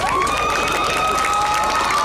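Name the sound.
students' audience clapping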